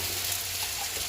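Cumin paste sizzles steadily in a hot frying pan, a dense, even hiss held at close range for a brief moment with no voices.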